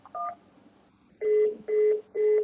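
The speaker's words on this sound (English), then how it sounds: "Dial it now." Telephone keypad dialing a local number: four crisp, loud touch-tone beeps, one short tone, a pause, then three evenly spaced longer tones.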